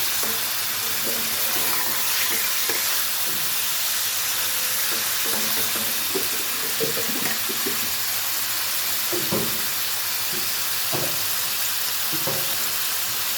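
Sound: lightly frying turmeric in a pan

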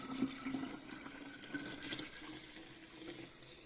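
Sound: water being poured into a jar to make kvass

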